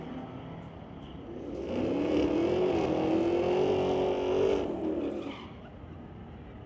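A Corvette and an Acadian race down the drag strip at Mission Raceway Park in a street-legal grudge match. Their engines swell to a loud, sustained roar with tire noise, hold, then fade as they pass.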